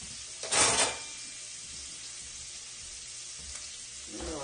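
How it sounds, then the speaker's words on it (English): Onions frying in a pan with mushrooms for chicken pot pie, a quiet steady sizzle opening with a brief loud burst as a wooden spatula stirs, then faint scraping later, no talk. "Alright, we get these onions going here."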